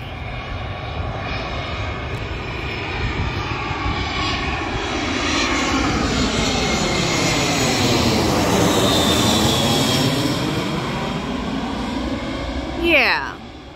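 A fixed-wing airplane passes overhead at a beach park under the flight path for Tampa International Airport. Its engine roar swells loudly as it comes near, with a falling pitch sweep, then eases off at the end.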